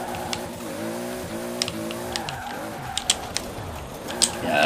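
An engine revs in the Forza Horizon 4 racing game as a heavily tuned 1100hp Toyota Supra holds a steep drift, its pitch climbing and falling in waves beside faint tire noise and small clicks.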